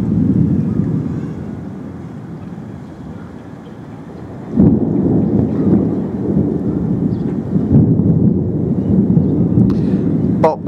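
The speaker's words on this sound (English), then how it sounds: "this storm will pass" Rainy-season thunderstorm in Thailand, with loud continuous rain and rumbling thunder that swells midway, close and dense throughout.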